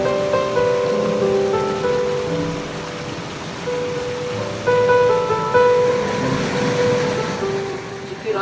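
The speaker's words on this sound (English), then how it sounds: "Here's the water flowing over the small rock cliff into what Norm and I call our spa." Water spilling over a small rock ledge into a backyard pool, a steady broadband rush with splashing and droplets, moderately loud and continuous, swelling slightly midway.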